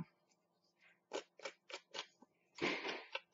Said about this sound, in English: you just take your scissors, cut it,